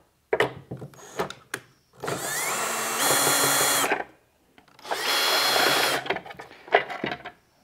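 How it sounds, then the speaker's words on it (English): A power driver whirs in two sustained bursts of about two seconds each as bolts are backed out of a Minn Kota Ulterra trolling motor bracket plate. Short clicks and taps of handling come before, between and after the bursts. "Using a number 3 screwdriver, remove the 2 bolts from both sides of these plates."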